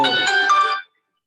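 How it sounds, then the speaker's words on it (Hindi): A phone ringtone plays a loud, bright electronic melody for under a second, then cuts off abruptly into silence. "मेरा फोन रिंग होने लगा था।"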